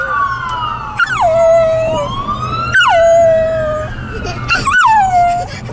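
Police car sirens wail repeatedly during street protests in Ferguson, Missouri, sweeping up and down in loud cycles, with a dog howling along over low traffic rumble.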